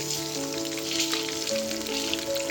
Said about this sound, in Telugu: మీడియం లో ఫ్లేమ్లో పెట్టుకొని ఎగ్స్ని ఫ్రై చేసుకోండి